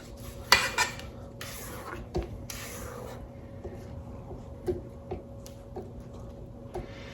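Spatula scraping banana-pumpkin bread batter around a mixing bowl, a few short scrapes and soft clinks standing out against a steady low hum, close and fairly quiet, with no talking.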